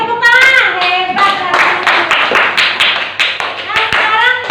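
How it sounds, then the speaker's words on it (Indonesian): A group claps hands together in a classroom anatomy lesson, loud rhythmic claps mixed with voices chanting or calling out over them. "tepuk tangan, hebat"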